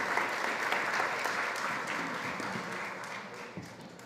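A conference audience at the SXSW food summit applauds after a panel discussion, a dense, even wash of clapping that holds steady throughout.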